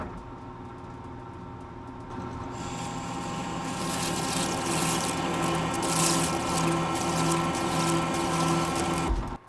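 A lathe takes a half-inch-deep cut in one pass on 4140 steel, giving a steady mechanical whine with sustained tonal hum that builds and holds for several seconds before stopping abruptly, with no voices.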